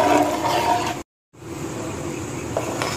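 Water from half-cooked rice for Arabian-style mandi being strained off, a steady loud rushing pour that briefly cuts out and then continues just as strongly.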